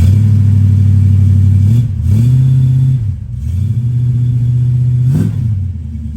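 A 1971 Jensen FF, a 330-horsepower four-wheel-drive car, revs loudly and close up, its engine note rising and falling through several throttle blips with brief dips between them.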